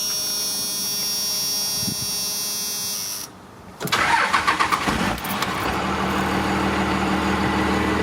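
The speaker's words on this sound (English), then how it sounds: "Let me give her a crank so you guys can hear her run." A 12-valve second-generation Dodge diesel truck sits at a low hum, then the starter cranks briefly and the engine catches, roaring up and settling into a loud, steady run nearby.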